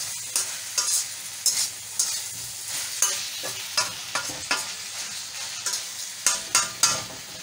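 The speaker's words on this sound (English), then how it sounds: "Then we are going to stir it a little bit." A spoon stirs onions and elbow macaroni frying in a pan, with repeated scraping strokes in a steady rhythm over a continuous close sizzle, no voices.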